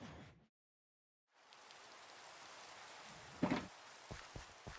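Steady rain falls in a blocky sandbox video game, a broad continuous hiss after a brief silent gap, with a few sharper ticks and one louder burst near the end.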